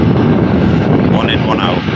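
A TUI airliner departs Newcastle Airport with a broad, loud jet roar dominated by rumble and buffeted by microphone wind noise throughout.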